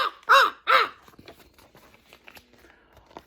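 Flamingos squawk in a story reading: two loud, harsh calls come close together at the start, followed by quieter scattered squawks and rustling.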